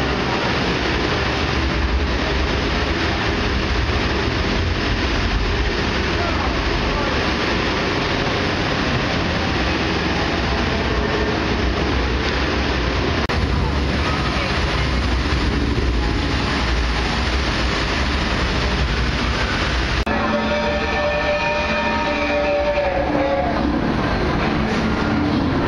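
Replica train running on its rails at a Disney park, a continuous rumbling roll with rattling carriage noise and a squeal toward the end, steady and close throughout with no speech.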